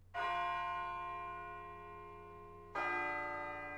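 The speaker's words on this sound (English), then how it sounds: "It sounds like a bell, but where's it coming from?" In the video game Persona 3 Portable, a resonant bell is struck twice, each ring clear and sustained and fading slowly, with the second strike about two and a half seconds after the first.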